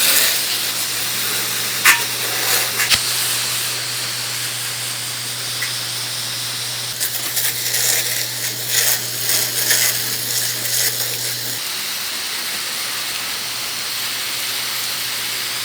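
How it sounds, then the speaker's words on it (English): A pump sprayer hisses out a 50-50 soft wash chemical mix on a back patio: a steady, broad spray sound with a few louder bursts midway, with a low hum running underneath for most of the time. "we will use the pump sprayer with a 50-50 to take care of that"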